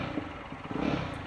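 A Jawa 42 motorcycle engine revs while standing still, producing a continuous low, throbbing rumble that swells slightly toward the end, close and fairly loud with no talking.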